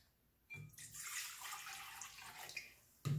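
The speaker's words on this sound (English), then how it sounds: "in the bowl of a stand mixer, you're gonna wanna throw your water." Warm water pours into the bowl of a stand mixer in a home kitchen, a soft splashing stream lasting a few seconds. A couple of light knocks frame the pour.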